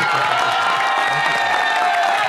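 An audience at a television show claps and cheers continuously to welcome guest Ali Zaryoun, a dense, loud, close wash of applause with scattered whoops and shouts and no break throughout.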